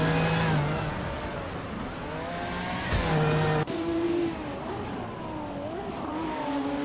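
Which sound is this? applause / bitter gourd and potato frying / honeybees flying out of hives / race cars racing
race cars racing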